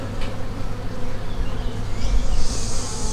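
Honey bees buzz in a dense, continuous swarm around a beehive, a steady close-up drone that swells slightly toward the end, with no voices.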